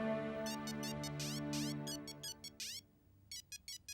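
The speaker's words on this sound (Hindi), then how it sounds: "मेरा ही फोन बज रहा है" A mobile phone ringing with a melodic ringtone, first as layered sustained tones with chirping sweeps, then as a string of short, evenly spaced bleeps, fairly quiet and with no voices.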